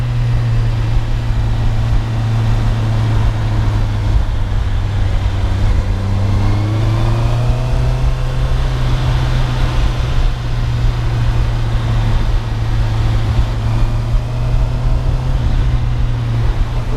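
A 2024 Honda CBR650R inline-four motorcycle pulls hard in third gear, its loud, smooth engine drone climbing steadily in pitch under a constant rush of wind noise.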